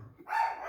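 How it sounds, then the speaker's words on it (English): Household dogs barking somewhere in the background, a single short bark-like burst that stays fairly faint and distant, alone without talk. "Sorry about my dogs in the background"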